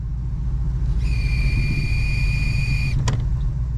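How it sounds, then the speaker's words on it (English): A failing 52-year-old brake booster on a Chevy LUV truck gives off a steady, whistling whine for about two seconds as the brake pedal is pressed, then ends with a short click, all over a low idling engine rumble. "I heard this noise when I stepped on the brakes."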